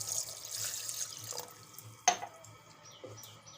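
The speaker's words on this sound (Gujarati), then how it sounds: "એક ગ્લાસ આપણે પાણી નાખશું" A glass of water pours and splashes into a vessel with a gurgling flow, ending in a sharp clink, close and without speech.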